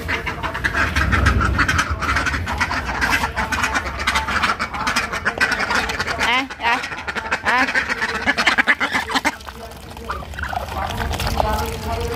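Ducks quack intermittently at moderate distance near water, their calls mixed with a woman's conversational speech and some trickling, splashing sounds.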